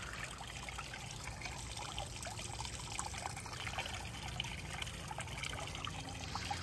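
Water from a garden pond waterfall trickles and splashes in a steady, even babble, soft and somewhat distant, with no voices.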